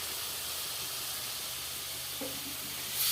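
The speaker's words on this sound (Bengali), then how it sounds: "আমি উপর থেকে দিয়ে দিচ্ছি সরষের তেল" Mustard oil poured over a simmering rohu fish head and spinach dish, a steady close hiss and sizzle that swells slightly at the end.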